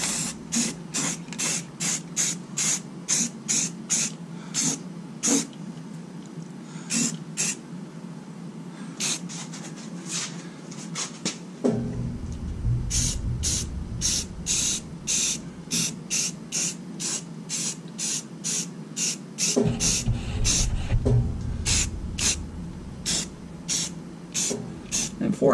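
Rattle-can spray paint applied to Jeep TJ parts: short repeated hissing bursts in an uneven rhythm, close to the can, with a louder rumbling background in some stretches.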